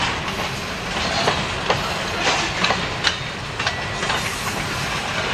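A heavy freight train with ore cars and wood loads rolls past on the rails, a steady low rumble broken by repeated clickety-clack wheel beats at irregular intervals, close and fairly loud.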